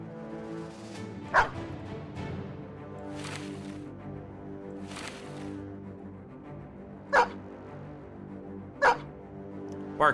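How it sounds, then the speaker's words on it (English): A dog in Battle Brothers gives several sharp, isolated barks spaced a couple of seconds apart over a steady low ambient hum, with no talking. "Bark, bark, bark."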